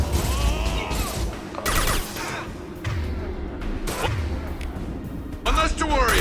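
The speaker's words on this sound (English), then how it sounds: "Taking fire." Gunfire in Mass Effect 2, bursts of rapid shots and impacts in a busy firefight, loud and close, mixed with voices talking over the action.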